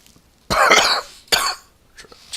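A person who is sick coughs close to the microphone, a harsh two-part coughing fit with a long first burst and a shorter second one, then a couple of faint breathy aftersounds.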